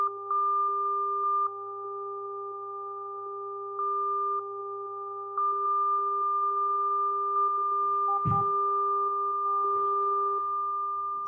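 Sonified astronomical data plays as steady electronic sine-like overtone tones, the pitch stepping and shifting as the cursor moves around a plot, with one brief soft knock partway through.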